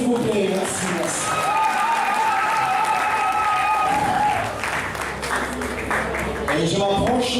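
Guests at a customary wedding celebration applaud loudly in a sustained burst, with cheering mixed in and a voice talking over the clapping.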